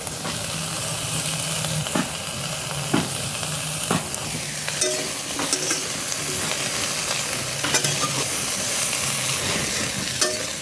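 Water lily stems with salt stirred in a frying pan, a steady sizzle under occasional spatula scrapes and taps, close and unbroken by speech.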